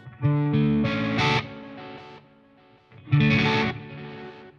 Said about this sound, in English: It's a stereo reverb. I normally go for a hall